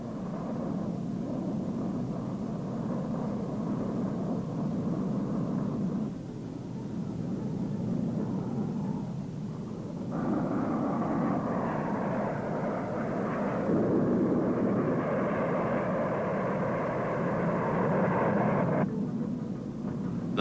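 A Convair F-102 Delta Dagger pilotless target drone taking off, heard as a steady, loud jet roar that swells and shifts in strength over about twenty seconds, with no talking.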